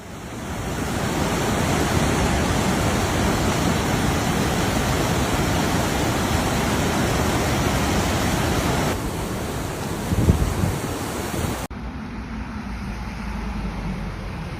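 Floodwater from torrential rain in Florence and Pisa, Italy, rushes in a loud, continuous broadband roar like heavy surging water, with a brief thump partway through and a changed, slightly duller wash after a cut.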